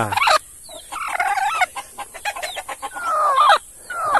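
Hens at a backyard breeding station clucking and squawking repeatedly up close, with irregular calls and a drawn-out cackle near the end, loud and busy throughout.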